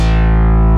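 A u-he Repro software synthesizer plays a sustained, rich harmonic tone with its Velvet tape saturation effect engaged, loud and steady throughout with a dense buzzy upper range and no talk.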